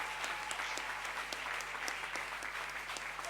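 A church congregation breaks into steady, dense applause, close and full, the clapping continuing evenly throughout with no clear speech over it.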